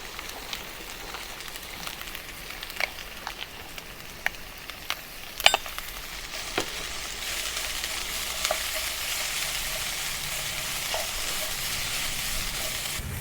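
Bean sprouts stir-frying in a hot wok for Sichuan boiled beef, a steady close sizzle with scattered sharp crackles and spatula clicks that swells into a dense, continuous hiss.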